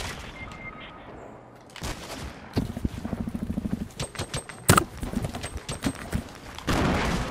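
Fortnite gunfire, with rapid bursts of shots in quick rhythmic volleys, a loud sharp blast partway through and more shots after it, close and loud, with little talk.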